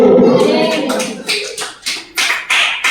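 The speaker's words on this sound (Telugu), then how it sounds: "చప్పట్లు కొడుతూ" Hands clapping at a church service, a run of sharp close claps in a loose rhythm after a stretch of speech at the start.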